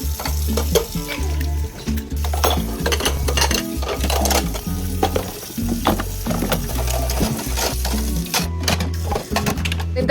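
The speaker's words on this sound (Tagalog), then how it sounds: "then saka ako maghuhugas ng pinggan." Dishes being washed at a home kitchen sink, with plates, pots and utensils clattering and clinking steadily and close, over a constant low hum of running water or appliance noise.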